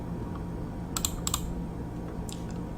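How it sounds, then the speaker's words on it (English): A computer keyboard gets a few quick key presses, two close clicks near the middle and a lighter one after, each crisp and brief against a steady low background hum. "press the letter U until you get to user"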